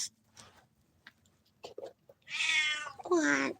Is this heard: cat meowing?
yes